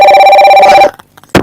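A telephone rings loud and close with a steady electronic trill that cuts off abruptly, followed by a short silence and a brief noisy burst.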